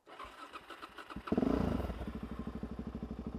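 A motor vehicle engine labours in the wrong gear, starting faintly, then surging loudly into a chugging, pulsing rhythm that continues close by.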